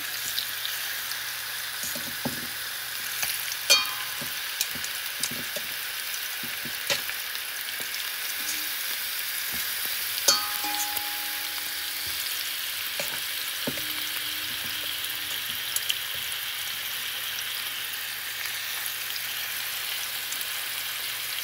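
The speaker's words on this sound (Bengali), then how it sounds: "তেলটা গরম হয়ে গেছে, তো এখন মাছটা দিয়ে দিচ্ছি।" Fish fries in hot oil on a stove with a steady, close sizzle that holds throughout, broken by occasional light clinks and spatters, with no voices.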